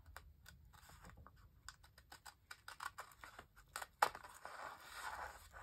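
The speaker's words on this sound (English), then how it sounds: "So what we're going to do is we're going to cut this out." Scissors snip through paper to cut out a lace lined envelope, a close, quiet series of quick crisp cuts in an uneven rhythm, with a sharper crunch near the end.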